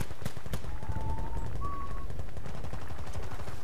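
Rapid bursts of gunfire from Battlefield Bad Company 2 crackle continuously and loudly throughout, with sharp individual shots among the automatic fire.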